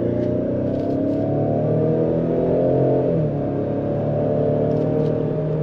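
A 2022 Ford Explorer ST-Line with a 2.3L engine and rear-wheel drive accelerates at full throttle in sport mode, heard from inside the cabin. The engine drone is loud and steady, with rising revs and a brief shift dip midway.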